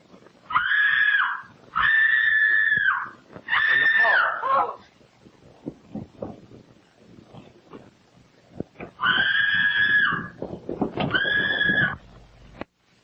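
A frightened woman screams in several long, shrill, sustained bursts, with short pauses and faint shuffling between them, loud and close with no other voices.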